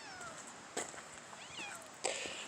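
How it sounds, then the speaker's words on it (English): A cat meows several times in short, rising and falling cries, fairly close, with a sharper louder yowl near the end over a quiet room. "This cat is freaking out."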